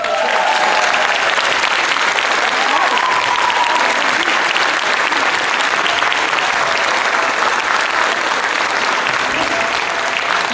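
Warm, sustained applause from parents and guests at a kindergarten spring party, many hands clapping loudly and evenly for ten seconds with faint voices beneath.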